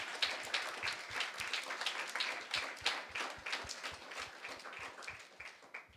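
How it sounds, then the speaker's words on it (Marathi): A church congregation applauds during a Sunday sermon, many hands clapping in quick, roughly rhythmic bursts that stay moderately loud and then gradually thin out over several seconds. "Clap for yourself and glorify God."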